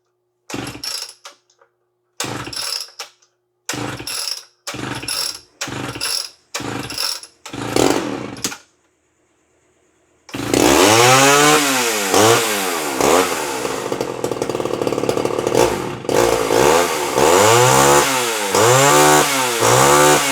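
An old chainsaw that has sat unused for four or five years is pull-started with a string of sharp ratcheting cord pulls, then fires and runs loud and close, its engine revving up and down.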